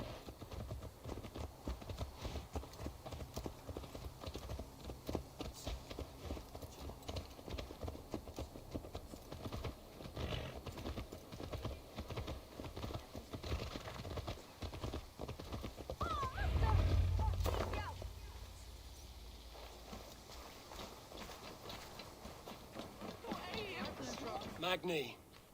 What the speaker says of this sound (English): Let's return the horse.